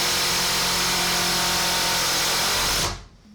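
A Ridgid Gen5x cordless impact driver drives a screw, giving a loud, close, continuous whirring clatter that runs for nearly three seconds and then cuts off abruptly into quiet.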